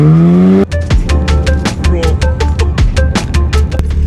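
A Volkswagen Golf R engine starts with a brief whine, then settles into a loud, close, throbbing idle with a rhythmic pulsing exhaust beat that runs on steadily alone.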